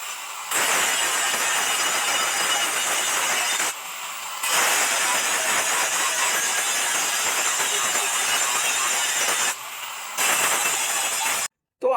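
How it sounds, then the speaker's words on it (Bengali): Blade of a chaff cutter machine being sharpened, giving a loud, continuous harsh grinding rasp that runs for several seconds, breaks briefly, then resumes twice before stopping abruptly. "তো চলুন এখন এই ঘাস কাটা মেশিনের ছুরিটা ভালো করে ধার দিয়ে দিই।"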